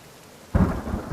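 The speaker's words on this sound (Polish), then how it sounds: "Och, no efekt piorunów" Thunder in the video game The Forest: after a quiet lead-in, a sudden loud crack breaks into a rolling rumble with the hiss of rain beneath it.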